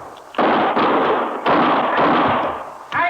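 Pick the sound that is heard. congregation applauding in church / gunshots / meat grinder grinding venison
gunshots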